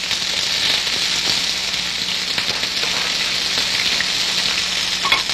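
Peppers and onions frying over medium to medium-high heat, a constant crackling sizzle with faint stirring ticks, close and steady throughout.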